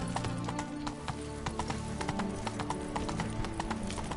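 Horse hooves clip-clop in a steady trotting rhythm in a PS4 video game, loud and continuous against a busy backdrop of game music and ambience.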